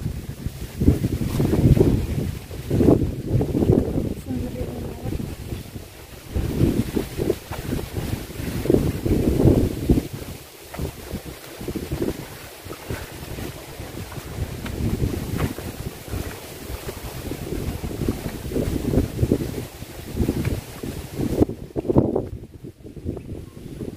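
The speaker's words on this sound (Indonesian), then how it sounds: "Lumayan ada angin." Strong gusty wind blows across a mountain forest trail, buffeting the microphone in heavy, uneven rushes that rise and fall for the whole stretch.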